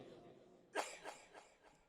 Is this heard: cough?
yes